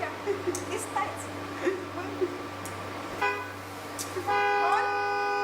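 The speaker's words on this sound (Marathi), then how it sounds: "कोण हॉर्न वाजवतंय?" A car horn honks in a long steady blast near the end, after a couple of brief toots, heard over a constant hum at a one-act stage play, with people talking earlier.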